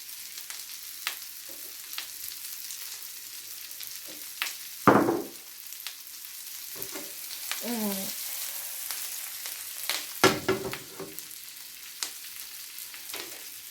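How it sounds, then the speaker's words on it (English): Butter, seasonings and fresh thyme are stirred in a hot pan, a soft steady sizzle broken by scattered spoon clinks and a few louder scraping sweeps. "I'm just going to stir this up a bit. Just make that butter just intertwine with the seasonings and the herbs."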